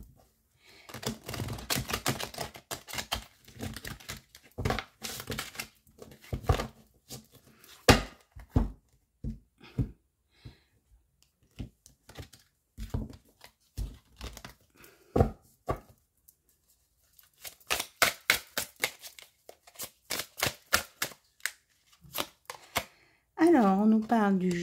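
A deck of tarot cards is shuffled by hand in repeated bursts of crisp, riffling clicks and flutters, with short pauses between them and a voice speaking briefly at the end.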